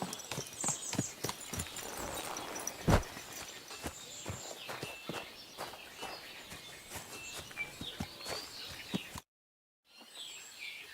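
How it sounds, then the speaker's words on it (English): Slow hoof clip-clops of a horse walking in the video game Kingdom Come: Deliverance II, with birds chirping faintly in the background, before a brief silence. "Easy, good horse."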